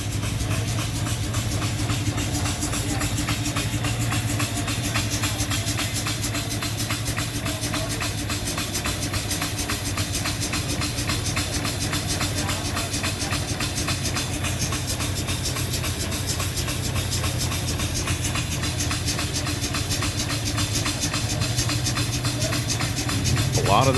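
An antique 1902 Case 20-horsepower engine running at a power expo, giving a loud, steady mechanical hum and chug with a constant hiss throughout.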